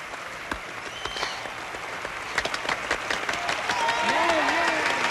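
A crowd cheers and applauds at a rodeo-style event, a steady wash of clapping with scattered whistles and shouts, moderately distant, with people talking over it nearby.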